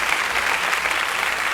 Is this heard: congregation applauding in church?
yes